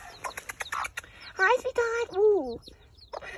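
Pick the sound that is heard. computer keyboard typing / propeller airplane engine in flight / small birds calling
small birds calling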